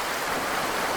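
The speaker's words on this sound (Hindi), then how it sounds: "बहता हुआ पानी" Water flows steadily in a stream at a scenic outdoor spot, a continuous broadband rush with no breaks, moderately loud and close.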